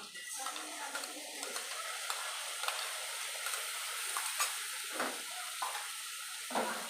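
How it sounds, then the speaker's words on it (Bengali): Ginger and chilli paste sizzles and gets stirred in a hot pan for a vegetarian green banana kofta, a steady close fry with soft scraping strokes recurring throughout. "এবার ভালো করে কষিয়ে নেব মশলাটাকে"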